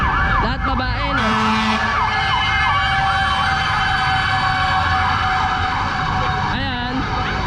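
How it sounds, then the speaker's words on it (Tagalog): A fire truck's siren wails loud and near as it passes through a busy market street, its rising and falling tone repeating steadily throughout. "Padaanin muna natin yung bumbero."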